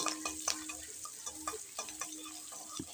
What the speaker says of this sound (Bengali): আর খানিকটা রসুন থেঁতো করে ফোড়ন দিয়ে দিয়েছি এবার এটাকে ভালো করে আমি ফোড়নটাকে ভেজে নিচ্ছি